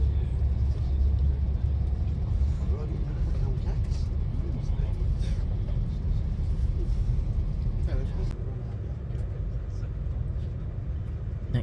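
Interior of an Avanti West Coast Pendolino train riding toward London, a steady low rumble and rolling drone with faint clatter above it, easing slightly near the end.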